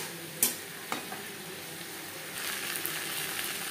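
Spices with potato and cauliflower being stirred and sautéed in a pan for lentil khichuri, a soft steady sizzle with a few scraping clicks of the spoon and louder frying toward the end, no voices.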